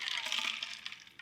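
A margarita pours from a cocktail shaker into a glass over a big ice cube, giving a brief bright splash that quickly fades to a few soft drips and clinks.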